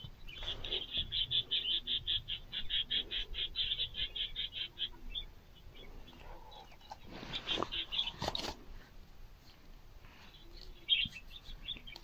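Chicken calls from a yard: a rooster's run of rapid high chirps to hens, then scattered clucks and squawks at moderate distance.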